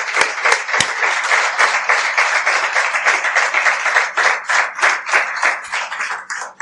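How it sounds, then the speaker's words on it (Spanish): A church congregation applauding, dense sustained clapping from many hands at close range that keeps an even level for several seconds, then thins and fades toward the end. "¿Quieren aplaudir al Señor para darle la gloria?"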